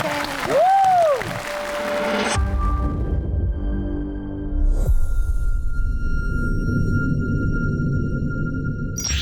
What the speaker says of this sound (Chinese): 让我们把掌声和舞台都交给锤娜丽莎